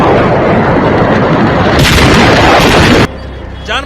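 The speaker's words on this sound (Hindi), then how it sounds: "पटाखे फटते रहे" Firecrackers blasting in a factory explosion: a dense, loud continuous roar of overlapping bangs and crackle that swells into a brighter burst, then drops abruptly to a quieter rumble with a faint wavering cry at the end.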